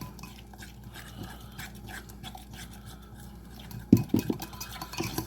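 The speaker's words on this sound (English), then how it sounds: "Mix it all around." Thin batter for southern fried fish being stirred in a bowl, a soft wet swishing and light scraping that turns into louder sloshing strokes near the end.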